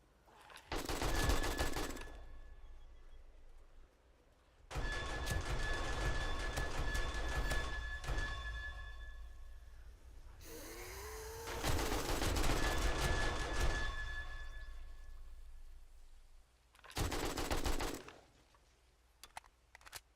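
Automated turrets in the Kismet kill box of 7 Days to Die fire in four long bursts of rapid, continuous automatic gunfire, loud and close, separated by silent gaps.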